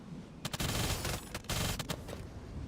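Rapid burst gunfire from The First Descendant, dense overlapping shots in loud bursts separated by brief lulls, no voices.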